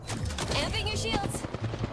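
Sustained bursts of close gunfire in the video game Apex Legends, mixed with in-game voices talking over the shots.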